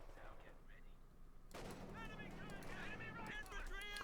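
Bursts of machine gun fire in the strategy game Company of Heroes 2, crackling steadily for a couple of seconds over the battle din, faint and under a commentator's talk.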